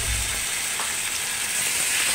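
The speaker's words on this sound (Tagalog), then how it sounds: "lagyan na natin ng oil at saka gisa na natin yung chicken." Chicken frying in oil in a home kitchen, a steady broad hiss of sizzling fat, fairly close and continuous, with a few faint clicks mixed in.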